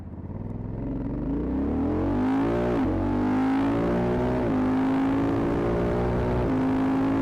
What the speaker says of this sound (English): DCT switching gears up at higher revs generates an insane sound